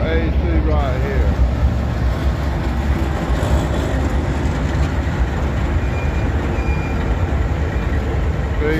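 A CW44AC freight locomotive hauls its train past nearby with a continuous loud rumble and rolling wheel noise, while a few high squeals ring out early on.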